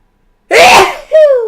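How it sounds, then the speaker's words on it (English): A single loud, close sneeze bursts out of silence, followed by a short drawn-out vocal sound. "You got to sneeze."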